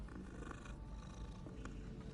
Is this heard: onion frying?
no